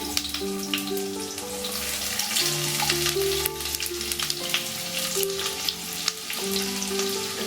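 Sliced onions frying in oil in a pan while cooking masoor dal vada curry, giving a steady close sizzle that runs through the whole stretch, with tonal background music playing underneath.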